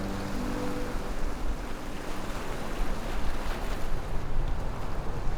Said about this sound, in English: All that's left is the sound of the waves and the birds.